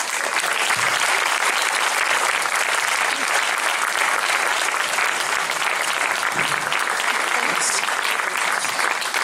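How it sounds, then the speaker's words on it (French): A theatre audience at the closing and awards ceremony of an Arab film festival in Fameck gives sustained, dense applause that stays loud and even throughout. "Des applaudissements encore plus chaleureux parce que Walid a trouvé le chemin"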